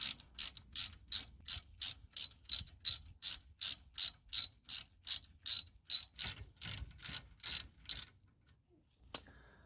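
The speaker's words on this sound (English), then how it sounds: "After removing the wheel, you're going to want to remove the guide pins." Ratchet wrench loosening the brake caliper guide pins on a car with the wheel removed, a long run of about twenty quick, even ratcheting bursts, close and clear, then stopping, with no talking.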